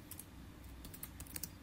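Quiet, close keystrokes on a computer keyboard, a short burst of several sharp clicks pressing shift and 6 while typing in a word processor, with no voices.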